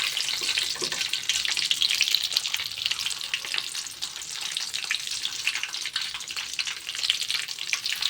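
Masala-stuffed eggplants frying in oil in a pan over a medium flame, giving a constant, bright, close sizzling hiss with light crackles that never lets up.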